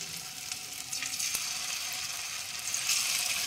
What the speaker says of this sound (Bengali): গ্যাস কমিয়ে কমিয়ে ভালো করে লাল লাল করে ভাজতে হবে।